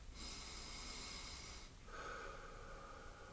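Deep breaths drawn before a singing practice, soft airy inhales and exhales close to the mic, quiet and steady with no talking.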